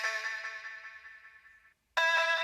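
A sung vocal treated with delay rings out as sustained tones that decay over a second and a half, then cut to brief silence before a louder repeat swells back in.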